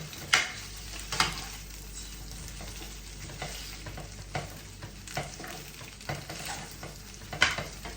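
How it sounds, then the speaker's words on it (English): Chow mein noodles fry in oil in a pan with a low constant sizzle, punctuated by irregular sharp scrapes and clatters as they are stirred and tossed up close. "the heat and the oil is just gonna kind of break these noodles down"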